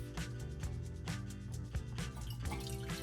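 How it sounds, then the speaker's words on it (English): Distilled white vinegar poured through a funnel into a jar, making a steady, close gurgle and splash with a hollow, ringing tone and uneven glugs. "So the first thing I'm gonna do is just add distilled white vinegar."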